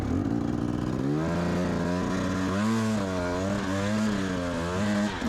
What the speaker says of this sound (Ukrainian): Бо це траверса, підйом, мотоцикл тяжкий, старий